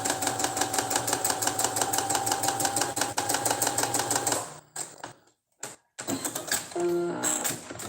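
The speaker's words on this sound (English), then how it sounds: "I'm just gonna stitch this open part back where it's supposed to go." Sewing machine running a straight stitch to close an open seam on handmade bell-bottom pants: a steady, loud rapid mechanical chatter for about four seconds, then a few brief stops and restarts, ending in a short whirring run.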